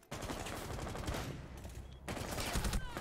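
Rapid automatic gunfire from the tactical shooter game Rainbow Six Siege, loud and continuous with a short pause near the middle before another dense burst.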